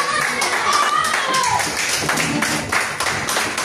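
A church congregation claps together in praise of the Lord, loud and sustained, with voices mixed in among the applause.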